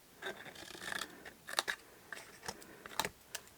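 Scissors snip through paper while trimming the mitered edges of a small no-glue favour box, giving a few short, quiet cuts spaced irregularly, close by with no talking.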